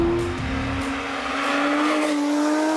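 Porsche 911 GT3 Speedster cornering on a damp track, its engine a loud sustained tone that dips under braking, then rises steadily as power is fed back out of the corner, with tire noise and no talking.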